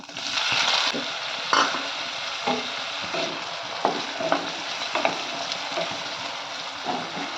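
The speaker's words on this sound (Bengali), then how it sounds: "এখন দিয়ে দিচ্ছি টমেটো কুচি।" Chopped tomato hits hot oil already holding a dried red chilli, a bay leaf and chopped garlic, a loud continuous sizzle broken by scraping stirs at intervals, with no talking.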